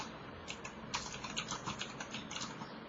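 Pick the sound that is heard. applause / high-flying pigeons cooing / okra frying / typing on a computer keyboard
typing on a computer keyboard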